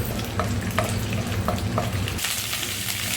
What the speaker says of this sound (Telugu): కొంచెం మినపప్పు కూడా వేసుకొని బాగా ఫ్రై చేసుకోండి